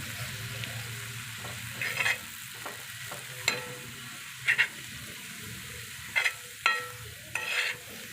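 Fenugreek leaf mixture being stirred on a hot griddle, a soft steady sizzle with several sharp scraping clicks of the spatula spaced every second or so, close and moderately quiet.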